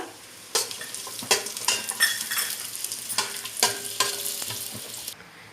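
Cashews and raisins fry in ghee for a Mangalore-style chicken dum biryani: a close, continuous sizzle punctuated by sharp, repeated clacks of a spoon stirring against the pan, with nobody speaking.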